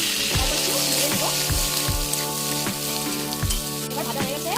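Potatoes, green chilli paste and fried cauliflower frying in oil in a pan for a hilsa curry, a steady sizzle under a low hum, punctuated by regular clinks of stirring.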